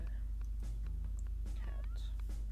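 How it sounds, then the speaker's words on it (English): A cat in the video game Sims 2 gives a few short meows over a steady low hum and other game sounds. "Cat."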